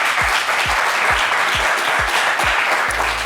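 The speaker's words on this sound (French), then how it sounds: "Kwaku, on va vous applaudir bien fort" A studio audience claps loudly and steadily for a contestant on a French TV game show, a dense close burst of applause with faint rhythmic low thumps underneath, no talking.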